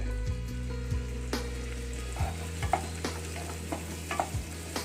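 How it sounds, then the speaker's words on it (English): Onion, carrots and garlic sauté lightly in a pan for a chicken lasagna, with a soft steady sizzle and a spoon scraping and stirring in irregular strokes, heard close up with no talking. "We need to saute lightly the onion, crates along with the garlic."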